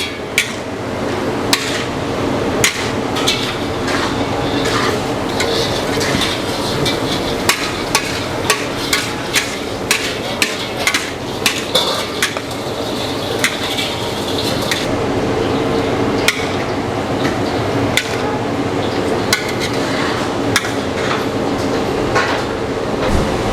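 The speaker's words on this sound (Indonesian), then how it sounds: "Udah masuk semua bahan-bahannya teman-teman, tinggal kita aduk-aduk aja sampai matang" A utensil stirs mushrooms, carrots and green chilies in a pan, giving steady rhythmic metallic clanks and scrapes, close and fairly loud, over a low background hiss.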